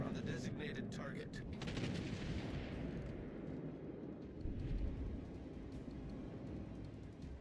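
Distant, muffled battleship gun salvos in World of Warships Legends: several quick booms early on fade into a low rolling rumble, all faint.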